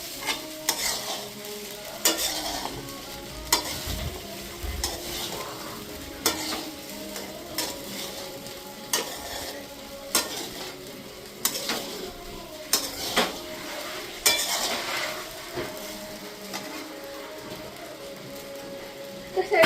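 Sabudana khichdi stirred in a pan, rhythmic scraping strokes of a spoon against metal repeating every second or two over a light sizzle, with faint background voices.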